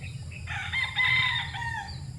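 A young late-born rooster stag gives one strained, close crow that rises and holds for about a second, with a steady low hum underneath.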